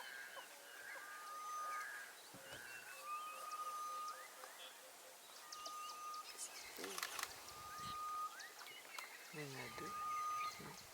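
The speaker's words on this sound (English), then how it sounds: "See this bird here? It's the one that's calling there. It's called the grey-headed bush shrike." A grey-headed bush-shrike calls in the South African bush on a safari morning, a series of faint, drawn-out whistled notes repeated at intervals, with other birds chirping in the background.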